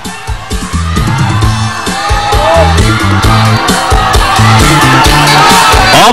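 A Kun Khmer boxing crowd whoops, shouts and cheers for a fighter. The noise is loud and continuous, mixed over rhythmic live music.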